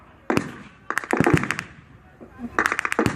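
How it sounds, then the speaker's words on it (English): Mortar rounds and small-arms gunfire at an outdoor World War 2 reenactment, with bursts of sharp rapid cracks and bangs separated by brief pauses, fairly close and loud. "And the mortars are dropping in some rounds now."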